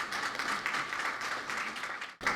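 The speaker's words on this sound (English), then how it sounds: "Let's give her another round of applause." An audience at the launch of the Think Equal Programme in Belize gives a round of steady applause, a dense wash of clapping that briefly drops out near the end before resuming.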